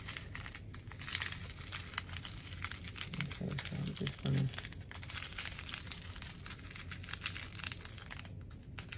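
Sunflower seeds being squeezed out through the tiny hole of a packet, a steady crinkling and rustling of packaging with a few soft, low seed rattles near the middle, close and fairly quiet.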